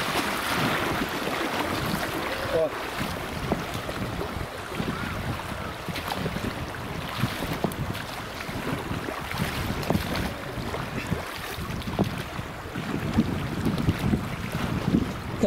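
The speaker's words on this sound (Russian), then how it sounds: "О, волны, волны, волны" Waves on the Tom river slapping against a boat, a steady wash of water and wind buffeting close by with irregular splashes throughout, no talking.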